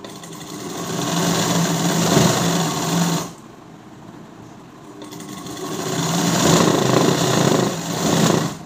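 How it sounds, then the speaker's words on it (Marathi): Sewing machine stitching a blouse fabric joined to its lining, a loud steady whirring run that pauses briefly mid-way, then resumes at full speed. "तर या प्रकारे आता हे दाब शिलाई देऊन घ्यायची."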